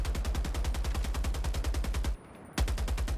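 Rail cannon fired rapidly in a shooter video game: a dense, steady stream of loud, punchy shots in even rhythm that cuts out for a fraction of a second, then resumes at full force, close and unbroken.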